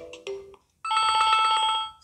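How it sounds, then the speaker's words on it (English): A smartphone rings with a WhatsApp incoming call tone: two short chime notes, a pause, then a bright trilling melodic ring, close and clear. "So this is how the phone rings when a known contact calls you."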